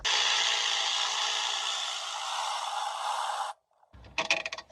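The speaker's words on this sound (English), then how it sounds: "I'll get you a 10 millimeter socket or the inverted torque and just get it out." A 10 mm socket ratchet working an alternator bolt loose on a Mercedes C300 gives a steady, close whirring clatter for about three and a half seconds, then stops, followed by a short burst of rattling clicks.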